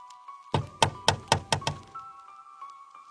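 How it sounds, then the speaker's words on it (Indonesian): Knocking on a bedroom window at night, six firm evenly spaced knocks close by over a low steady hum, then quiet. "mendengar jendela kamarnya diketuk"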